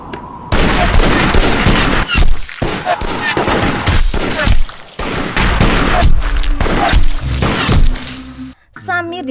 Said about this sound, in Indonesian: penembak jitu siap menembaknya